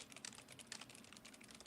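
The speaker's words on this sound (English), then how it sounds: "Will, we can hear the typing again." Rapid, quiet keyboard typing clicks along continuously in a soft, steady patter.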